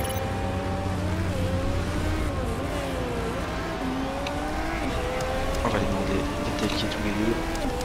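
Race car engines on a track in the PC game Motorsport Manager, a continuous whining drone with shifting pitch as cars run laps, steady and moderately loud throughout.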